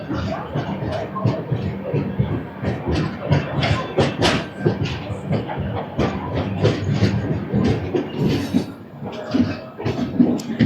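Godavari Superfast Express rolling along the tracks near a junction station, a steady rumble with rhythmic clickety-clack of wheels over rail joints, fairly loud and continuous, with faint murmurs of passengers in the background.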